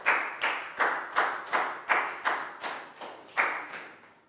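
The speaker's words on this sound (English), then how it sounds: "High five and a big round of applause for Pak Bung" A class applauds a student in a primary math lesson, ten or so sharp evenly spaced claps in a steady rhythm, close and clear with no talk.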